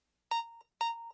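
Two identical electronic alarm beeps sound in a Hardee's radio advert, each a bright, sustained tone lasting about a third of a second and separated by a short gap, clean and alone.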